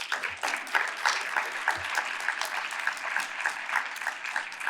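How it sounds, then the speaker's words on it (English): Steady clapping from a conference audience at a biotechnology research event, even and sustained for several seconds at moderate loudness, with no talk over it. "Can we have a round of applause for them?"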